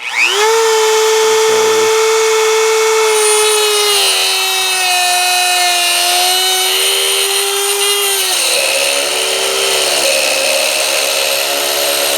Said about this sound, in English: Now I got to cut that bolt out there. So for this, I'll use my favorite tool, the Dremel.